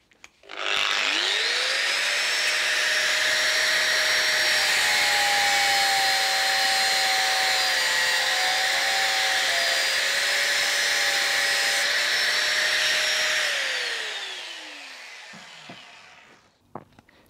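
A power drill bores a hole through the end of a metal pin from a Henchman tripod ladder, a loud steady whine that spins up, holds for about twelve seconds with slight pitch wobbles, then winds down to a stop.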